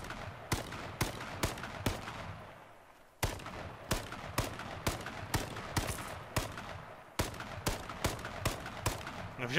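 Gunfire in the video game H1Z1, a long series of sharp, evenly spaced shots in three rapid bursts with short pauses between, loud and crisp.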